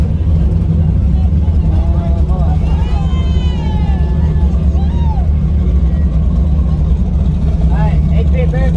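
A big-turbo, bone stock Honda Civic GSR making 370 wheel horsepower on street tires races down a drag strip, a loud continuous engine roar, with people talking over it.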